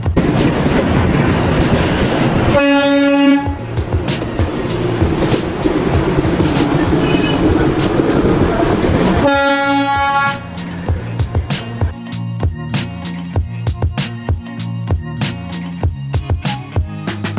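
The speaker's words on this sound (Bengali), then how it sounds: "ট্রেনের আসার শব্দ পাচ্ছি, আর এটা হচ্ছে টয় ট্রেন" A coal-powered steam toy train arrives in Darjeeling with loud, close whistle blasts, hissing steam and a rising rhythmic clatter of wheels over rail joints, the clacks growing distinct in the final seconds.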